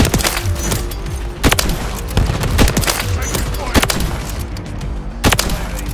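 Ballista sniper rifle shots in the video game Modern Warfare 3 ring out as several sharp, loud cracks spaced irregularly over a busy game background.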